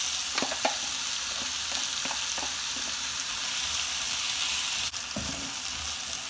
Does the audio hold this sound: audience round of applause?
no